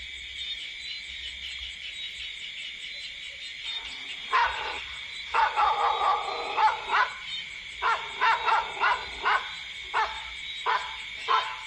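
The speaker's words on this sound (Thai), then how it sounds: "โอ้ยจะเห่าทำไม" A dog near a house barks repeatedly, starting a few seconds in and then coming in a steady series of sharp barks, over a constant background of crickets and night insects.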